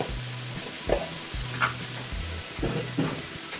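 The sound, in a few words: cumin added to fried radish, sizzling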